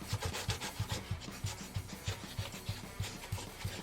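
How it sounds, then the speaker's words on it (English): Sandpaper worked by hand along the cracked edge of a drum cymbal, a close, steady back-and-forth rasping in quick regular strokes with no talk. "now we'll take some sandpaper"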